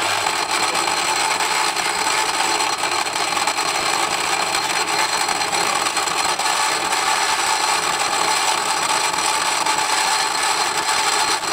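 A lathe parts off a machined piece for a Stuart 10V model steam engine, giving a steady, dense scraping hiss that runs unbroken and fairly loud for the whole stretch, with no talk.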